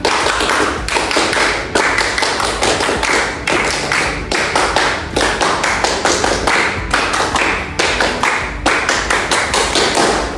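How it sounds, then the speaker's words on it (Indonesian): Classroom of students doing the rhythmic Indonesian scout clap three times, loud, sharp, patterned bursts of claps repeating in steady groups with no talking. "Coba kalian tepuk pramuka 3 kali."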